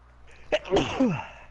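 A single sharp sneeze close up, a quick intake then an abrupt burst with a voiced tail, in an otherwise quiet room.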